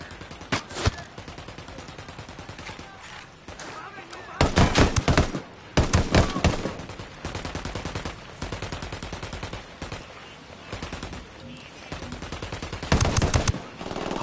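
Heavy gunfire in a Ghost Recon Wildlands firefight, with repeated loud automatic bursts and sharp shots spread across the whole stretch, the strongest volleys coming in clusters, with brief voice chatter in between.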